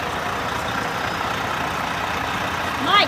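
A truck idling nearby while towing a camper on a cross-country trip, a steady low rumbling engine drone, with a brief rising mechanical whine near the end.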